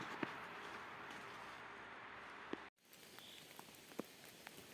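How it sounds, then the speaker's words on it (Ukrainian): Soft patter of light rain in a forest, steady hiss with occasional sharper drops, quiet and close, with a brief gap midway. "Пішов дощик. Ну, потрапили під дощик."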